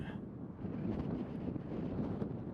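Gusty wind buffets the microphone on an open disc golf course, a steady low rumbling roar that swells and dips across the whole stretch with no speech.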